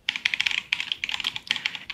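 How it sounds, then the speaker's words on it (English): Rapid typing on a computer keyboard fitted with cheap keycaps, loud and close, with quick bursts of clacky keystrokes separated by brief pauses. "you guys have heard this keyboard. You've heard this keyboard a couple different times"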